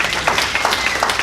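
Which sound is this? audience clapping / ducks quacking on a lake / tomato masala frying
audience clapping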